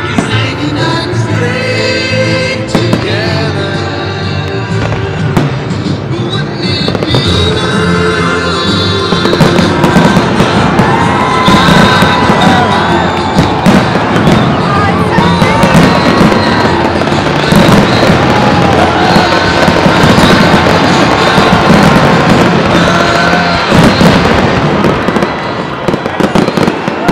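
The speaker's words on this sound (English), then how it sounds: "Are you ready for some fireworks?" A fireworks show at Dodger Stadium on a Friday night booms and crackles continuously, with loud dense bursts and rolling explosions filling the air, building in intensity after the first few seconds.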